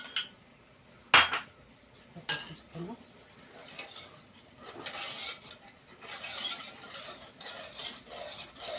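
A spoon stirring a sugar and cornstarch mixture in a pot, producing quiet, irregular scraping and a few sharp metallic clinks against the pot, louder early on and softer and busier later.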